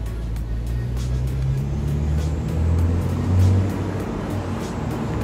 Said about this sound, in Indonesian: coba kalian perhatikan suaranya